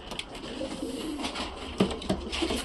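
Pigeons kept by a breeder coo softly nearby in low, repeated throaty calls, mixed with faint rustling and the sound of wings in a loft.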